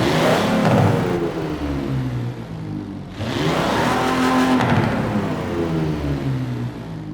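A stock 1952 Hudson Hornet engine in Forza Horizon 4 revs hard and close, with a steady mechanical roar that briefly drops near the middle and then climbs again. No voices are heard.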